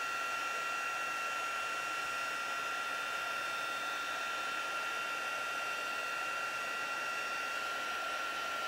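A handheld heat tool blows hot air over a craft background coloured with Distress Oxide inks, giving a constant close whoosh with a steady whine. It runs without a break from start to finish and no one speaks.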